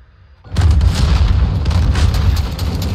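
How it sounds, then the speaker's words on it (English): Cruise missile explosion in Call of Duty Modern Warfare, a sudden loud boom after a quiet moment that rolls straight into a heavy, sustained rumbling roar with crackling debris. "My cruise missile blowing up"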